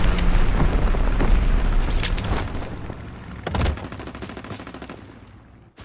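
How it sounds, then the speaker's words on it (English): Strafing gunfire from a fighter plane in the World War II shooter Call of Duty: WWII, a dense roar of rapid automatic fire and booming impacts that thins out partway through, then surges again in short bursts, loud and close. "Fighter pilot inbound, strafing the target."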